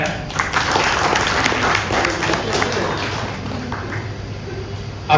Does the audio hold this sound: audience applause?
yes